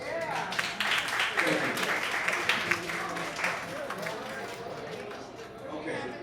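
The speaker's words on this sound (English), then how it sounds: "Can you give yourselves a round of applause?" Audience applause and chatter at a jazz gala celebrating the Central Brooklyn Jazz Consortium's 25th anniversary, steady clapping from a crowd mixed with voices and a brief spoken thanks over it.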